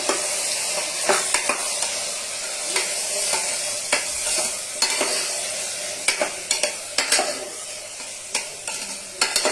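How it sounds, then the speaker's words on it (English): Small coconut pieces with green chili frying over a medium-low flame, a steady soft sizzle with a spoon clinking and scraping against the pan at irregular intervals. "So we have to fry this in a medium flame, low flame."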